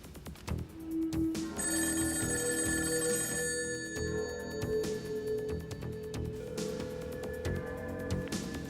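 A telephone rings on and on with no answer, repeated bright bell trills that are loud and close with a low background hum, in a French horror film.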